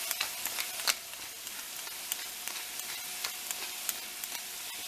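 Food stirred around in a frying pan over low heat for stuffed bell pepper parmigiana, with a steady soft sizzle and repeated scraping clicks of the utensil, close and clear without talk.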